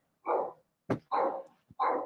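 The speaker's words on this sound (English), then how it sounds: "Let me tell that dog to shut up" A dog barks three times in quick succession, loud and close, with short sharp clicks between the barks and no voices.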